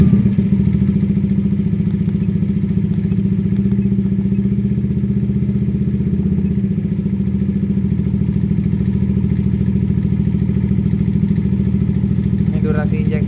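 A Yamaha NMAX scooter engine with a sputtering, stalling fault runs loud and close at a steady idle, a continuous low mechanical drone throughout.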